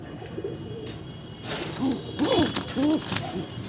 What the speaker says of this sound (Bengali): এরা মাদি পায়রা আছে ডিম বাচ্চা গ্যারান্টি থাকবে